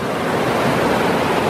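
A flowing river gives a steady, close rushing wash of water, dense and even throughout the short stretch, with no voices.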